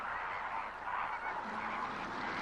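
Flamingos give loud honking alarm calls, a dense overlapping chorus from a flock at middle distance, continuous for a couple of seconds with no talk.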